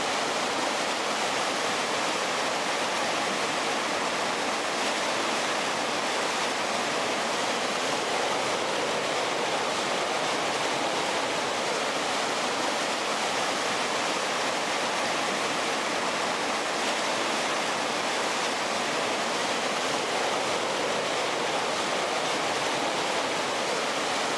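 A river flowing on a multi-day river trip, a steady, even wash of rushing water that holds at the same level throughout with no voices.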